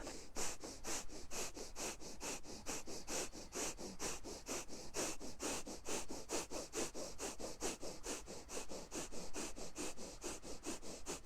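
Rapid, rhythmic breathing exercise: a long run of sharp, close nasal breaths pumped at an even, quick pace, each breath a short noisy burst, continuing steadily without talk.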